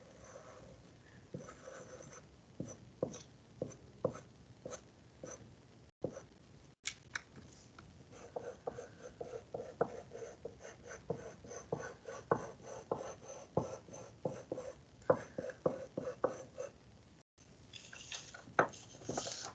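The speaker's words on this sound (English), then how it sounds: "Maybe I'll draw a couple spirals here and there, just because I like drawing them" A pen or pencil drawing spirals on paper makes quiet, quick scratchy strokes in bursts of taps and scrapes, close and faint, with brief pauses between runs.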